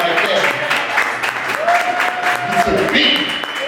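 An audience at a business and rap event claps in a short burst of applause, close and fairly loud, with voices over it.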